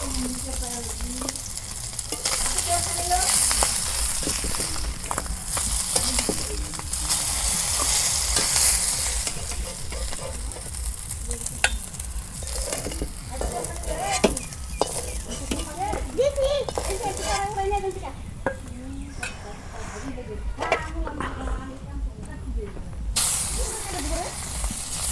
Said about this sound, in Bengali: মাছের মাথাটি আগে ভাজলাম, এখন মাছের নেজ ভাজতেছি